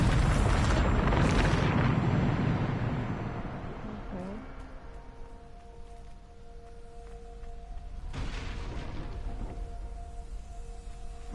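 Big booming blast from the Bombarda spell in Hogwarts Legacy, a heavy rumbling explosion that decays over a few seconds, then a second softer burst later, with faint ambient tones between.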